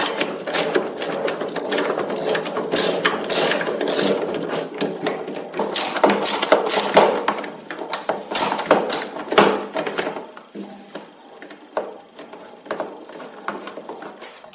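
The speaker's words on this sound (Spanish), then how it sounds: "necesitamos quitar estos tornillos que bloquean este panel. Entonces, en este caso, utilizamos la llave número 7 a tubo" A 7 mm socket wrench working screws out of a no-frost refrigerator's back panel, rapid ratcheting clicks and rattling bursts up close, loud at first then thinning to scattered clicks, no talk.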